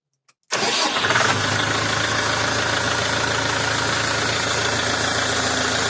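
A Scout 404C tractor engine cranks and catches after a brief silence, then settles into a loud, steady diesel idle with a constant low rumble that runs to the end, close by and with no talk.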